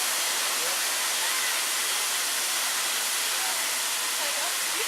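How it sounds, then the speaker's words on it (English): A recreated geyser modeled on Old Faithful erupts at Disney's Wilderness Lodge, releasing a loud, constant rushing hiss of spraying water and steam that holds steady throughout without pause. "they have this complete recreation of an actual geyser. It's very reminiscent of Old Faithful"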